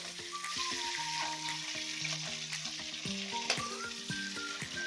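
Cauliflower pieces frying in oil in a pan, a steady close sizzle with soft scraping and clinks of a spatula stirring throughout, no voices.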